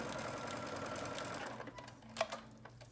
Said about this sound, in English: As you sew, you want everything to lay nice and flat and pretty.